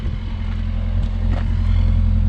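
A Chevrolet Chevette with a freshly repaired exhaust idles and revs steadily close by, its low engine drone rising slightly as the throttle is tapped, with no talk over it.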